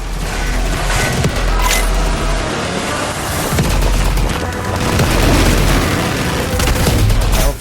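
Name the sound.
rocket explosion hitting the player in a video game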